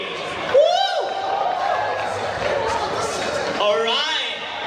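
A live crowd at a community sports league event applauds and cheers for the basketball and volleyball teams, with bursts of whooping rising over a steady wash of clapping and chatter.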